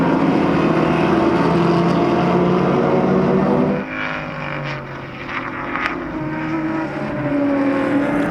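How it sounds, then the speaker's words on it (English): A 1966 Shelby GT chased hard by a 1965 Ferrari 275 GTB Special in a classic car race at Sonoma, their engines a loud, sustained roar that dips briefly and swells again as the cars pass close by. "away goes the GT Shelby 66 being chased hard by the Ferrari, the 1965 275 GTB Special"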